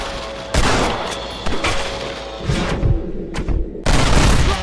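Gunshots during a fight in Red Dead Redemption, several loud, close booming shots spaced irregularly, each with a rumbling tail before the next blast.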